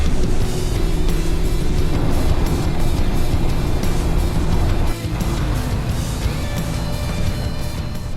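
Road traffic in a traffic jam makes a steady engine drone with tonal whine. Faint knocks and a brief dip midway break it up, and no one speaks.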